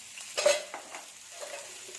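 Chopped fenugreek leaves with coriander, red chili powder, turmeric and salt are stirred and sautéed in a pan, giving soft, close scraping and a couple of light clinks over a faint sizzle.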